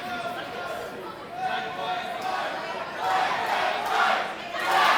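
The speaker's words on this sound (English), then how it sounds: "The crowd chanting, "Let them fight."" Wrestling crowd at a professional wrestling show, a dense roar of many voices swelling in waves, rising louder toward the end with chant-like surges.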